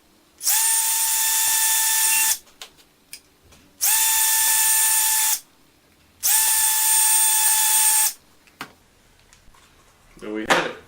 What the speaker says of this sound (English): The last thing you want to do is drill a hole into the side.